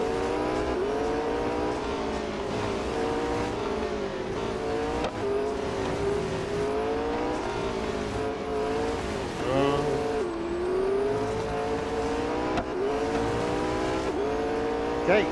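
Race car engines from the mobile racing game Real Racing 3 hold a steady, loud drone for the whole stretch, with pitch sweeps as the cars shift and accelerate, continuous and close.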